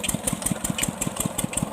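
A water pump engine idling on a bore well, a steady, close, rhythmic mid-pitched chugging with even pulses throughout and no voices.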